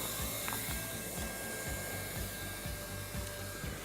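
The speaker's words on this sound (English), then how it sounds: "I'm going to go ahead and turn up my welder and do it the other way." A hot-air heat welder blows a steady, close, loud rush of air with faint low pulsing underneath, running continuously with no voices.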